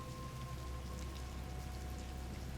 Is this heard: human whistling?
no